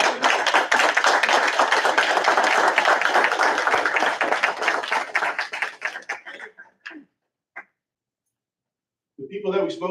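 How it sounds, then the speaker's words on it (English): Audience members at a Lawrence Township municipal council meeting give a round of applause, a dense clapping that runs steadily for about six seconds, thins into a few scattered claps and stops, then a voice begins speaking. "they deserve a round of applause after all these different presentations"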